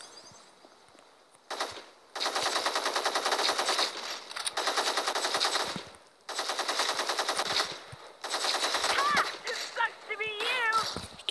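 Sustained automatic gunfire from a video game, with several loud rapid bursts separated by short pauses, followed by chirpy squeaking effects near the end.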